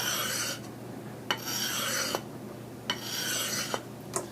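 Hand file rasping along hedge cutter blades in long, steady strokes, each a bright gritty scrape separated by short pauses and small clicks as the file is repositioned, close up with no speech.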